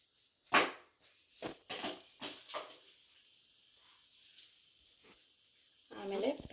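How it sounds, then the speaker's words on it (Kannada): Mustard seeds and a little cumin spatter and hiss in hot oil in a home kitchen pan, a faint steady sizzle with a few sharper bursts near and a voice speaking over it. "ಸ್ವಲ್ಪ ಸಾಸಿವೆ ಹಾಕ್ತಾಯಿದ್ದೀನಿ."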